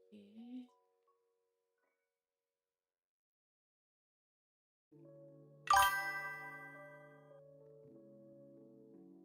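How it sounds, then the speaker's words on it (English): A single bright chime notification sounds from a computer during a drawing stream, a clear ringing ding that decays slowly after a short gap of near silence, preceded by a faint brief vocal sound. "Getting notifications, but I don't see it."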